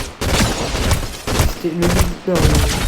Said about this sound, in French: Jones se bat, tire des balles contre le voyageur noir